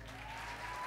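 Audience applause at a music school concert in Tehran, a brief quiet stretch of dense clapping heard from some distance.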